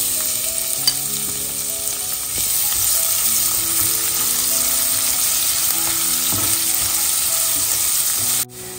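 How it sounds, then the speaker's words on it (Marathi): Chopped onion sautéing with garlic and asafoetida in a hot pan, a loud continuous close sizzle with scraping stirs throughout, ending in a brief clatter. "कांदा आपला छान असा परतलाय"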